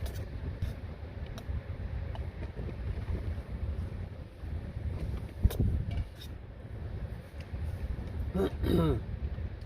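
Gusty wind buffets a parked car during a rainy camping night, a steady low rumble and roar around the vehicle with a few brief knocks and rustles, fairly close and loud, with no talk.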